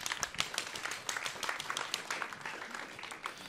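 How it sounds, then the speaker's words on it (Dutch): A modest studio audience in a Frisian-Dutch talk show applauds guests as they are introduced, sharp close claps in an irregular patter, fairly loud and sustained throughout. "Applaus alsjeblieft."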